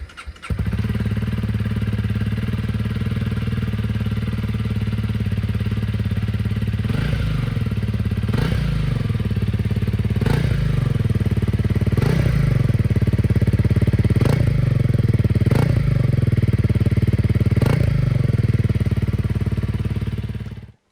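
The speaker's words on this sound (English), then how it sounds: "Here's what the bike sounded like before we put the new exhaust system on." A Honda CRF300 Rally motorcycle engine with its stock exhaust idles steadily with a deep, buzzy drone, then is revved several times in a row, each rev rising and falling back.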